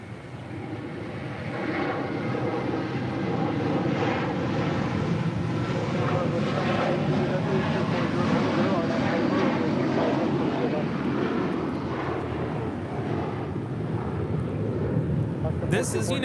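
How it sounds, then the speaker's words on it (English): An SAS Airbus A350 approaches LAX to land, its engines a loud, sustained low roar that rises and holds across the whole stretch, with wind buffeting the microphone and a brief rattle near the end. "SAS A350 heading over here to the south side for landing on 24"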